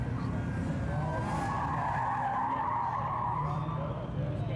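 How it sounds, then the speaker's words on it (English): A 1966 Chevrolet Chevy II braking hard and sliding through cones, its tires squealing steadily in a sustained skid over loud engine and road noise, holding for several seconds. "He stands on the brake, slides through the cone."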